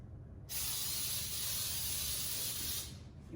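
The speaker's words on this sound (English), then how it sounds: "I'm gonna spray my pan" A steady aerosol hiss of Baker's Joy baking spray coating a pound cake pan, a single continuous spray lasting a few seconds, close by, then cutting off.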